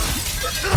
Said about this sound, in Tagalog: Binasag niya yung salamin.